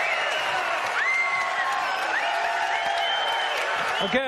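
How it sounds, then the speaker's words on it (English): A large indoor crowd at a press conference in London cheering and applauding in a steady roar, with occasional whoops rising above. "As you can hear, we've got a great crowd here in London"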